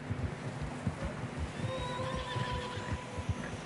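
Video game horses on a PS4 whinny and neigh repeatedly over muffled hoof and movement noise in deep fresh snow on a narrow path, fairly close, with a steady low background rumble.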